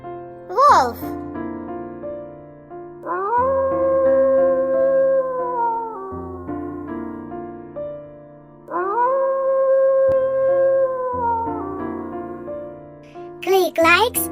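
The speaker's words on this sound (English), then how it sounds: "Wolf." A wolf's howl, offered as an animal sound for children, rises in two long drawn-out wails set over a bed of light background music, with a short yelping burst at the start and end.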